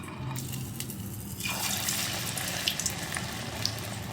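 Onion vadas frying in hot oil on low heat: a steady, dense sizzle and crackle that continues throughout, grows slightly louder partway in and has small pops scattered through it.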